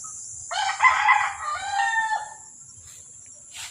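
A rooster lets out one loud, close crow lasting about two seconds among farmyard chickens, while insects chirp faintly in the background.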